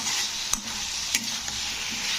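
Potatoes for a radish curry being stirred in a hot pan, a continuous close sizzle with a couple of sharp spatula taps against the metal.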